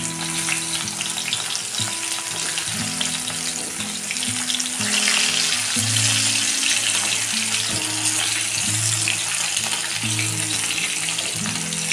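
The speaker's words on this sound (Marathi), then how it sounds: "आता हे छान असे तळून घेऊया" Karli fish fry in hot oil in a pan, a steady close sizzle and crackle that continues throughout with faint clinks of a utensil.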